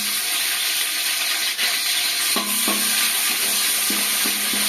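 Cinnamon, bay leaf and chopped onion frying in sunflower oil for chicken dum biryani produce a loud, dense, steady sizzle up close, with faint tonal hum pulses near the end and no speech.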